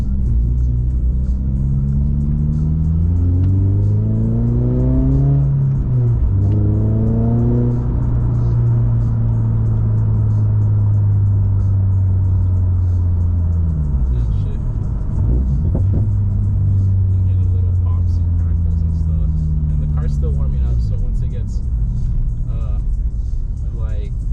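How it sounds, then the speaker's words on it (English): A 2022 Subaru BRZ six-speed manual's engine and exhaust rumble steadily up close, the revs rising and falling in long sweeps throughout. "you're gonna be able to hear a little bit more of the exhaust"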